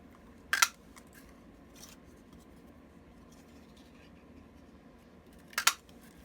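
Scissors cut circles from a scrap of patterned paper for a handmade card, two short crisp snips a few seconds apart, close and quiet, with a faint background hush between them.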